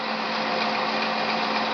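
A drill press runs steadily while drilling a hole with cutting oil applied, a continuous close mechanical whir and hum of motor and spindle with no voices.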